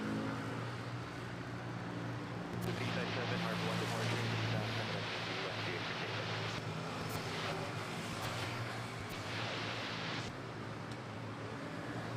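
Philippine Airlines airliner on short final approach into Manila airport, a steady broadband jet roar with a whining tone, sustained and fairly close, slowly swelling and fading across the whole stretch.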